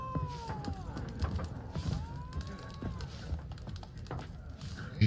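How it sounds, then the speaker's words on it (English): Angry cat in The Witcher 3 gives drawn-out, rising and falling meows over low ambient rumble and footsteps, with a voice murmuring faintly at times. "I don't like hearing a kitty all mad at me."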